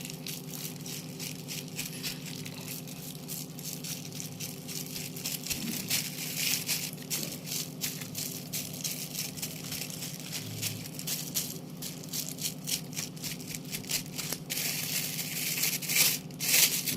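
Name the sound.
garlic cloves crushed and spread by hand in a plastic bag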